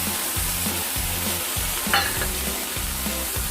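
Greens, boiled taro leaves and stinging-nettle leaves, stirred with water in a pot, giving a steady rhythmic scraping and sloshing, close and continuous, with no talk.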